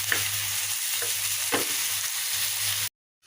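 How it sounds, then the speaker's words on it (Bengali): Boiled eggs fry in a pan with tomato sauce and spices, giving a loud, steady sizzle with a few soft stirring scrapes, close up, before it cuts off abruptly near the end. "এখন টমেটো সস দিয়ে ডিম রান্না করব ডিম সিদ্ধ করে এই যে একটু ভেজে নিতে সস দিয়ে কষিয়ে নিয়েছি"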